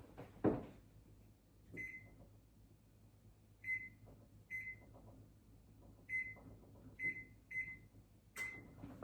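Kitchen oven being set to preheat to 425 degrees, giving a series of short, bright electronic beeps spaced irregularly over several seconds, with faint handling clatter in a quiet room.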